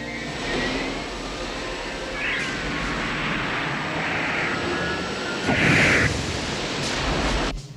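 Engine thrusters of Phantom fighter jets roar steadily and loudly through a launch sequence in the 1986 animated film Robotech: The Untold Story, with a brief swelling surge near the end.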